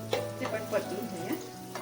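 Chopped onion and tomatoes sizzling in hot oil for an Andhra-style prawn curry, with a spoon scraping and stirring in short irregular strokes over a steady close frying hiss.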